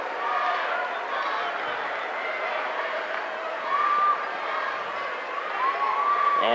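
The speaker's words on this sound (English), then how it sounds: "A very good cheer block here for Pike Central." Pike Central cheer block roaring at a high school basketball sectional final in a gym, dense continuous crowd noise with a few whistle-like tones rising through it.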